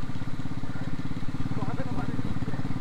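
A motorcycle rides along a high mountain road on the Sach Pass, its engine droning steadily and close with a chugging, rumbling pulse throughout.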